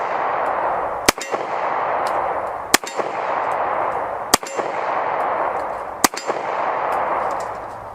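Four sharp metallic clangs from Star 9mm handgun rounds striking a steel target, evenly spaced about 1.6 seconds apart over a steady outdoor background hiss, each ringing briefly.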